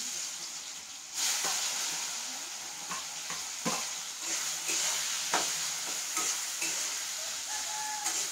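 Raw banana slices frying in hot oil, a steady broadband sizzle with occasional sharp pops and scraping stirs throughout, close and fairly loud with no voices.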